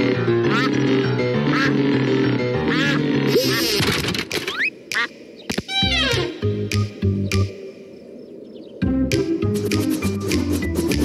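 A cartoon duck in a Pocoyo episode quacks in several bursts over background music and effects, loud and close, with brief pauses and a bump partway through.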